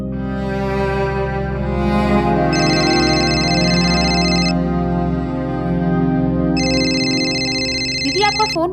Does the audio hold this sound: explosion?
no